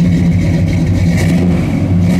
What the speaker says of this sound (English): I'm gonna rev it up a little bit, D.